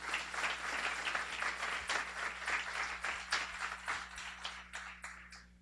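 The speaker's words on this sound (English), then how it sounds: "A round of applause for them as well." An audience applauds steadily at a guide dog school graduation ceremony, with dense clapping that stays moderately loud throughout, without talk.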